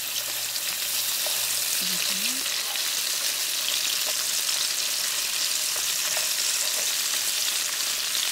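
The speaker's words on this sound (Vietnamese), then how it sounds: "Dầu nóng thì mình cho tôm vào chiên áp chảo." Shrimp pan-frying in two tablespoons of hot oil for caramelized braised shrimp, a steady close sizzle and hiss running evenly throughout, with a few faint clinks.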